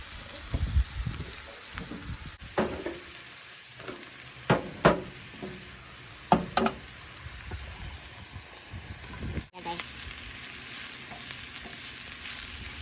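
Chicken gizzards drop into a hot pan with spring onion heads for bopis, hissing into a steady sizzle broken by clattering stirs and scraping, with the frying crackle swelling louder toward the end.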